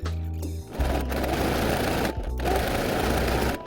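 A sewing machine runs a simple straight stitch through fabric at its longest 4.5 stitch length. The motor buzzes steadily and loudly, with a short pause just before the two-second mark.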